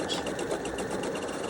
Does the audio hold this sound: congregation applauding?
no